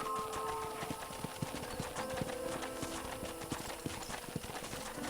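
Horse hooves clip-clop at a steady, even walking rhythm in the video game Red Dead Redemption, quiet and close, over a faint ambient background.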